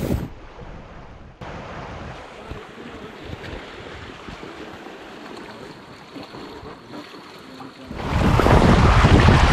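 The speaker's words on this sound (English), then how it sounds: "So this is the Giblin River" Rushing water of the Giblin River in the wilderness fills the air with a steady broadband wash, surging noticeably louder and closer over the final seconds; no voices.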